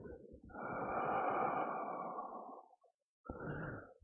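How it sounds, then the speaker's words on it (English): A long, breathy exhale lasts about two seconds, then stops briefly, and a second breath follows. The breath is released slowly during a calm breathing exercise and sounds close and intimate. "let go of the breath."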